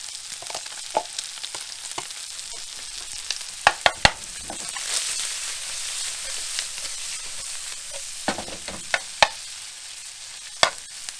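Onions and mashed potato fry in a pan, a steady broadband sizzle with scattered sharp pops and crackles, louder bursts clustering near the start and end, close and alone with no voices.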